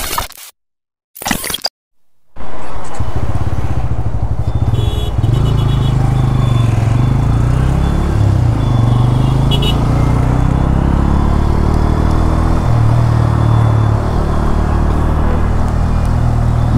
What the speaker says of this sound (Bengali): 300 ফিটের রাস্তায় ইন্ট্রুডারের শর্ট রাইডটা ভালোই হয়েছে।